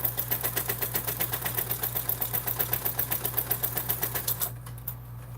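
Sewing machine running steadily while top stitching a Swoon Maisie bag, a fast even rhythmic chatter of needle strokes with a low motor hum, stopping abruptly near the end.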